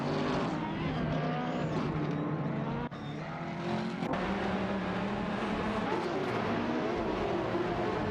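Ferrari race cars, including an A12 Superfast and a P45, roar through an AI racing video game, with a dense, continuous engine drone and hints of tire squeal. The sound stays loud throughout, dipping briefly near the three-second mark.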